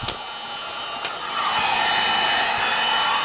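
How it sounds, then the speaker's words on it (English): A heat gun starts with a click and whirs up into a steady airy hum, rising louder after a second and holding constant. "We just grab the heat gun real quick."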